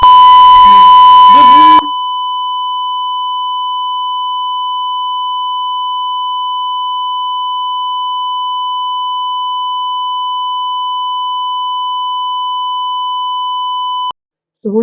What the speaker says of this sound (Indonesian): buzzer ini sebagai alarm ketika kondisi buah ini sudah mulai busuk